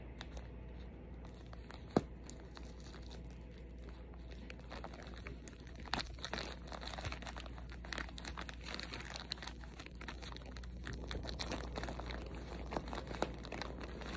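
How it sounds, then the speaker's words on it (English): Packing tape is torn and pressed down to reseal a package, faint intermittent crinkling and tearing bursts over a low steady hum, with no voices. "I'm going to try to tape this shut."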